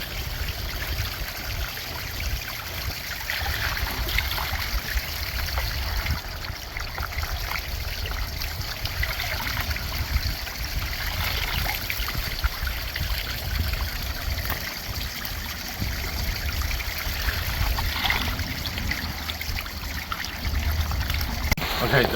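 Filter media is swished around in a bucket of pond water, producing a continuous close sloshing and trickling that stays steady and fairly loud throughout.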